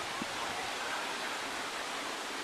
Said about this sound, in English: So beyond me, it's the river. It's the River Nid.